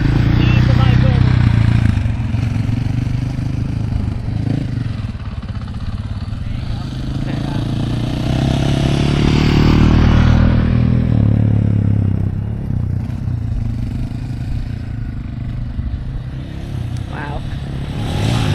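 A dirt bike engine runs through a riding class, a loud continuous rumble that swells and eases over rough ground, with a rider talking throughout.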